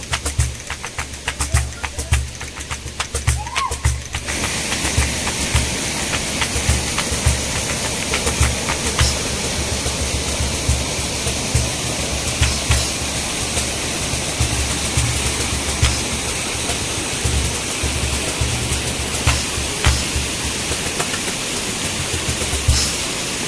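A waterfall in the middle of a forest, a loud continuous rushing roar of falling water that stays steady throughout, with no voices.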